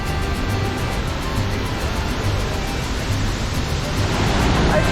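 A waterfall with a trail leading behind it, on a road trip in Mexico, pours as a dense, constant rushing roar, loud and close and unbroken, with no clear talking.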